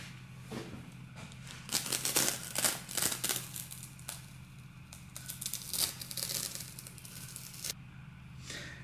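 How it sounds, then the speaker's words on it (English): Masking tape is peeled off a model motor glider fuselage, giving close crinkling and tearing rips in irregular bursts, with no talking. "And I'll just remove the masking tape and we'll let the glue go off."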